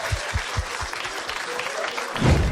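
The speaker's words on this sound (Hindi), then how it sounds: "शाहरुख लिए एक बार ताली बजा देंगे यार।" A comedy show audience claps, a distinct rhythmic series of bass-heavy claps at a quick pace, closing with a louder burst of noise at the end.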